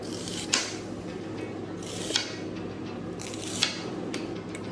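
A knife slices through mini sweet pepper halves on a board, giving repeated crisp cuts with three sharper snaps, close and moderately loud against steady kitchen background noise.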